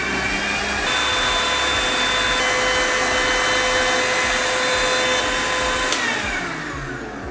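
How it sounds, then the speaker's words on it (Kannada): A blender whirs steadily as it purees watermelon into juice shop style juice, a loud, continuous motor drone that holds for several seconds and eases off slightly at the end, with no talking. "ಬನ್ನಿ ಈಗ ಇದನ್ನ ಬ್ಲೆಂಡ್ ಮಾಡೋಣ."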